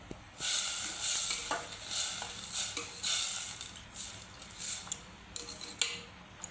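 Spring onion greens curry stirred in a pan with a spoon: a run of scraping, clinking strokes at an uneven rhythm over a faint background sizzle, close and fairly quiet, with no talking.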